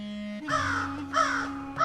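Two loud, close crows give harsh caws in three spaced calls, heard over a steady background hum.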